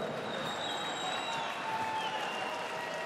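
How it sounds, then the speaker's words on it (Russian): An audience at a Road to Abu Dhabi grappling event in Russia claps steadily for the fighters, a sustained, even wash of applause heard without breaks. "And this applause are for you"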